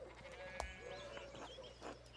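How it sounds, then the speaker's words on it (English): Sheep bleating in the video game Pentiment, a few wavering bleats at moderate volume over a soft ambient background, with no talk. "we need to get these sheep under control."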